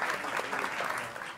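Brief burst of audience applause at a live cooking show, a dense steady patter of many hands clapping at moderate loudness with no voices standing out.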